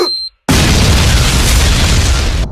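A remote-detonated bomb goes off after a brief quiet, a sudden loud broadband blast that roars on as sustained rumbling debris noise for about two seconds before cutting off.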